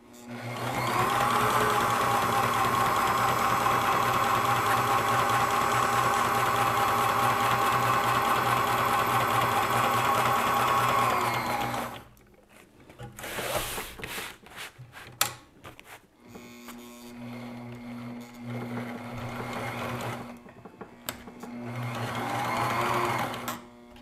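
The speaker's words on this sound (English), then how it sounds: "this walking foot machine physically moves so much that the whole table is, is kind of shaking as we're going here" A walking foot sewing machine stitches loudly and steadily for about twelve seconds, its mechanism hammering hard enough to shake the worktable, then starts again in shorter, broken runs with clicks and handling noises between.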